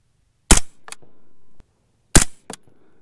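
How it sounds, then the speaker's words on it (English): Two sharp, loud rifle shots from a .223 Remington firing handloaded IMR4895 reloads with 60-grain V-Max, 69-grain Sierra and 75-grain Hornady bullets, each with a quick echo and about 1.7 seconds between them. "my gun hasn't exploded yet, so I think we will be okay to shoot the remaining ones"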